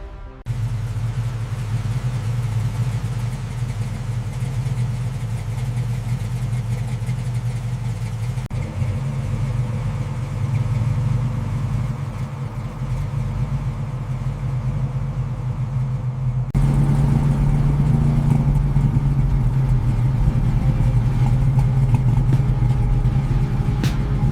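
Daytona yellow 1969 Camaro Z28, restored, with its engine rumbling at a steady deep idle that grows slightly louder and heavier partway through, heard close up and continuous with no talk.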